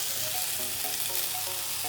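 Pasta with vegetables frying in a pan on the fire, a steady, dense, close sizzle with faint crackles and no talking.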